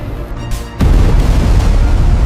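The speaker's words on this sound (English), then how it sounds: "With a massive explosion, the blast struck the Ender Dragon directly." A loud, deep video game explosion striking the Ender Dragon erupts suddenly and rumbles on with a heavy low roar, filling the space after a brief quieter lead-in.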